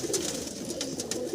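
A racing loft pigeon coos in a low, continuous rumble at close range, with a few faint rustles over it; no one talks.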